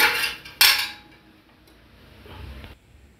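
A pot of melted jaggery syrup lifted off a stove, with two loud metallic clatters near the start, then quieter rustling and handling noise, close by and without talk.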